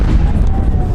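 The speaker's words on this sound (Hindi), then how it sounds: "कुछ ही सेकंड के बाद दोस्तों एक बहुत बड़ा धमाका होता है" A huge blast near gate number 1 of the Red Fort metro station, heard as a loud, sustained low rumbling boom that fills the whole moment with no voices.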